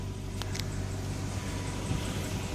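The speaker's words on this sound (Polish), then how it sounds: "Samochód pracuje w tym momencie na benzynie." A 2002 Ford Focus 1.6 with an LPG conversion idles on petrol, a steady low engine hum with a constant rumble, heard close and unchanging.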